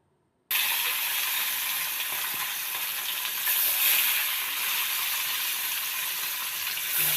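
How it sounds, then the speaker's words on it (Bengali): Fish pieces frying in hot mustard oil in a wok: after a brief silent start, a sudden loud, steady hiss and crackle of sizzling that carries on close and continuous. "মাছগুলো আমি এপিট ওপিট ভালো করে ভেজে নেব।"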